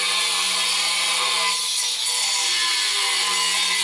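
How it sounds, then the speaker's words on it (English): Angle grinder cutting a small aluminum bracket in a workshop, a steady loud abrasive whine with a faint low hum, continuous for the whole stretch with a brief dip partway through. "You don't wanna use an angle grinder to cut aluminum."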